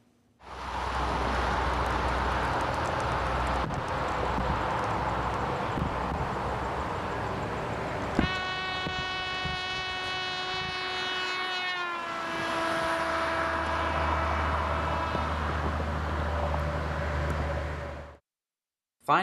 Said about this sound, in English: Now, we'll listen to the trumpet as it drives by.